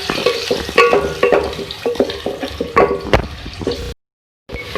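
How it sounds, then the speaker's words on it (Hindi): Onions frying in oil for beef achar gosht, loud close sizzling with rhythmic spatula stirs and knocks, then an abrupt short silence before the frying resumes. "सबसे पहले हम इसके अंदर ऐड करेंगे प्याज। थोड़ा सा फ्राई कर लेंगे।"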